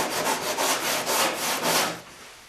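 Rounded wooden interior part sanded by hand with sandpaper, a rhythmic series of close, raspy back-and-forth strokes, about eight in two seconds, then fading out.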